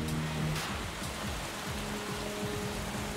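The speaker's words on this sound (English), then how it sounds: "The rain moves in and hits us harder than any rain we have seen before." Heavy tropical rain pours down steadily during an overland expedition in Central America, a dense continuous hiss with no voices.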